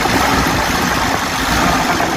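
A Kia pickup engine, freshly fitted with a new head gasket and tuned up, idles steadily and close by, a loud, even low rumble with a smooth mechanical hum and no talk over it.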